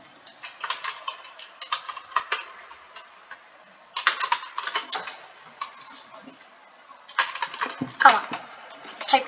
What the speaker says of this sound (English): Oh man, am I not typing it?